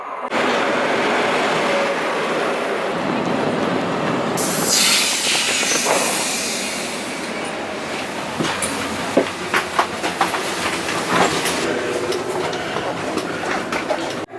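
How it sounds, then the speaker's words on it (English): A night train in Sweden rumbles and hisses as it pulls into the platform, with rail clatter and clicking wheels building over a steady broadband roar, close and loud. "the train is approaching the platform"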